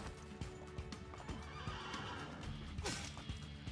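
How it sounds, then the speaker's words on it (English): A horse in the Assassin's Creed 2 video game gives a loud whinny amid steady clip-clop hoofbeats and game ambience, with a sharp high neigh rising near the end. "Hello, horsey."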